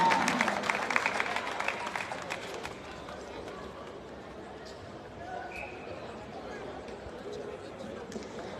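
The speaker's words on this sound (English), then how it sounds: "Let us give them a round of applause, a big one indeed." Applause from the audience at a joint youth and adult education graduation ceremony, a dense burst of clapping for the first few seconds that dies away into quieter room noise and voices.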